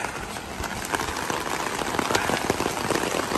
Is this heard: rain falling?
yes